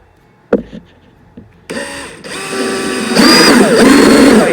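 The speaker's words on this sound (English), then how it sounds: "we might be drilling into an already screw" A power drill bores into wood during a thrift-store farmhouse decor makeover, starting after a few light knocks and then whining steadily, loud and close, with its pitch rising and straining as the bit bites deeper.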